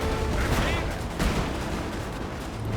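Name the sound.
musket and cannon fire in video game Napoleon: Total War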